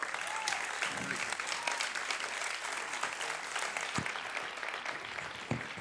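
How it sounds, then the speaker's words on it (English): Sustained applause from a sizable crowd, steady clapping filling the whole stretch with a few sharper claps standing out. "For another round of applause"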